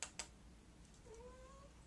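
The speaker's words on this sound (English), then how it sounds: "It's my cat." A pet cat gives a soft, rising meow that sounds fairly near but faint, coming after two sharp clicks, with a quiet room in the background.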